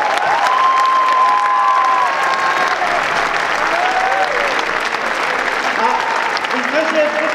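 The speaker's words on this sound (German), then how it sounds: "nochmal einen großen Applaus und Pamela" Enthusiastic clapping and some cheering from a crowd at a fashion show during the German Down syndrome sports festival, continuous throughout, with people's voices and shouts rising over the applause.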